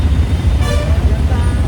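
Road traffic in a jam on the highway out of Vijayawada: a continuous low rumble of idling and creeping cars, buses and trucks close by, with a brief brighter passing sound and a faint voice over it.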